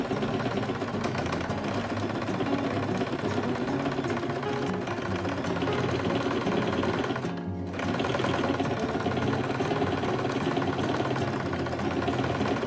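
A sewing machine stitches the lining of a quilted tote bag with a 1 cm seam allowance, giving a steady, close, continuous whirring drone that stops briefly near the middle and then resumes.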